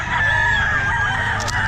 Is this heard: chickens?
yes